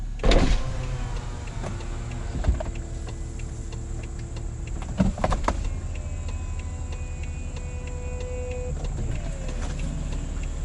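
Electric convertible roof of a BMW 640i Convertible lowering, a steady close mechanical whir with ticking and a few thunks and clicks as panels move and latch, running continuously with no talking.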